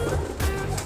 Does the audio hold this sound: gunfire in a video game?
no